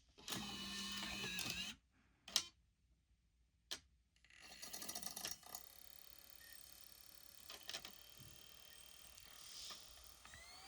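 A Nintendo Wii disc drive with a swapped top, not yet screwed in, grinds and whirs while reading a disc, with a loud burst, a pause, sharp clicks, then steady mechanical whirring and faint ticking close by.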